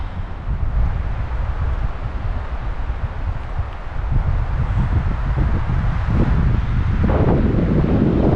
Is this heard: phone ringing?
no